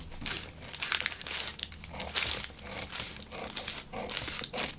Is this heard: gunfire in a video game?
no